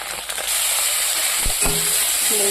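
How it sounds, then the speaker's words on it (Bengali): Chili and ginger frying in hot oil with cumin seeds and bay leaf, making a steady, close, bright sizzle that runs unbroken, with a couple of faint clinks of a utensil against the pan. "দিয়ে দিয়েছি এবার একটু ভাজা ভাজা করে নেবো"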